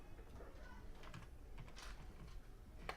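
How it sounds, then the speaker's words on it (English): Typing on a computer keyboard while entering an answer, a run of light, quick key clicks in uneven rhythm over a steady background hum, fairly faint and close. "So once we type in 1840,"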